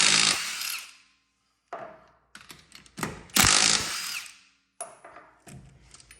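A ratchet works bolts loose on a Yamaha RMAX side-by-side, with several bursts of quick clicking and tool whirring broken by short silences, close and fairly loud.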